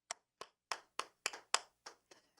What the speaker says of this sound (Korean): 이렇게 믿음을 지킨 우리 태웅이에게 박수를 보냅시다.